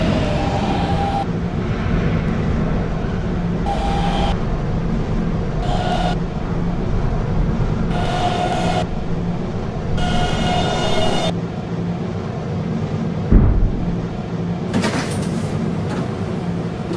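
Subway train running on the R152 local in the Roblox game PTA Subway, a steady low rumble and hum throughout with periodic brighter bursts and one sharp knock, steady and close.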